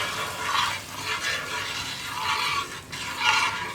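Parippu payasam, a thick Kerala lentil pudding, is mixed in a pan. Soft, rhythmic stirring strokes swell and fade about once a second, close and fairly loud.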